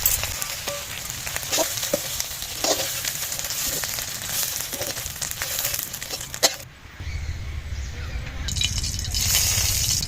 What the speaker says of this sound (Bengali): আলুগুলো তেলে একটু ভেজে নিচ্ছি।